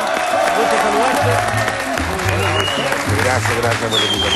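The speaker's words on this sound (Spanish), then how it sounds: "se den fuerte aplauso para Iván Arenas" A studio audience on a talk show bursts into loud, sustained applause and crowd noise for a comedian guest. Voices and a low tonal hum sit underneath the clapping.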